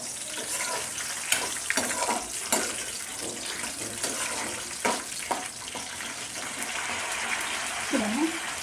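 Green chillies sizzle and crackle steadily in hot oil in a pan while tomato roti pachadi is being made, a continuous close hiss with someone talking over it.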